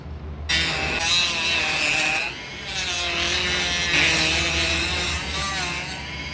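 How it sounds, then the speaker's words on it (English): A Dremel rotary tool cuts plastic while a double DIN radio is fitted into a 1992-97 Ford F-Series or Bronco dash, giving a steady high whine with gritty grinding, close and loud, briefly easing midway before resuming. "Plastic is no match for this Dremel"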